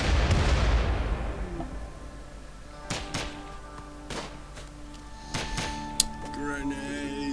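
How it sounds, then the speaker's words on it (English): Grenades going off in RimWorld: one big blast that rolls away at the start, followed by scattered sharper thuds and pops, while a voice talks faintly underneath. "Oh, yes, grenades!"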